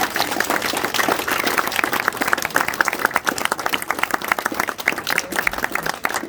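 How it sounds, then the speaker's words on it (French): Applause from a small gathering at a school restaurant inauguration, individual claps distinct and uneven, building slightly then continuing at a lively, irregular pace. "on peut l'applaudir, Madame Petitbon"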